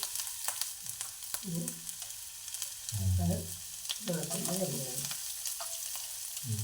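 Finely chopped ginger frying in leftover oil from frying fish, a continuous close sizzle with scraping stir strokes, while a voice speaks in bursts over it.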